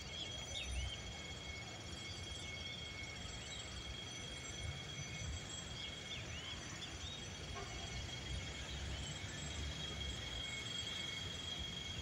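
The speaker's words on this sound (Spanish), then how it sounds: "Ahí viene el tren." A Sarmiento line train pulls into Moreno station as a faint, distant rumble with light wheel squeal, while birds chirp softly in the background.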